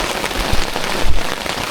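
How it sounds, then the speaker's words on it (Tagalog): Heavy rain drums steadily on a camping tent beside Chandava Lake in Cavinti, Laguna, a dense close hiss with a few louder drop impacts and no talk. "Ang lakas ng ulan."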